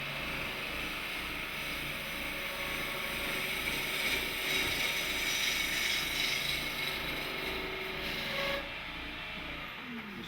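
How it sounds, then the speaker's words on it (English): A wood-turning gouge cuts wood on a lathe with its bevel rubbing the surface, producing a steady, close scraping and ratcheting hiss that runs continuously for about eight seconds before dropping to a quieter hum. "As I go in with the gouge, I slowly and surely turn the gouge that the bevel is always rubbing against the wood."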